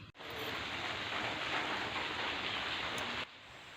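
Heavy rain pours down in a dense, steady hiss, loud and close, then cuts off abruptly near the end, with no voices.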